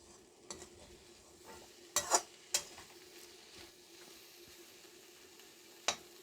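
Okra frying lightly in a pan for bhindi masala, giving a soft steady sizzle with a few sharp stirring clinks and spatula taps against the pan, fairly quiet and close.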